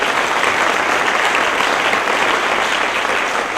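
Loud, dense applause from an audience at an annual award ceremony, continuous and even throughout with no pauses.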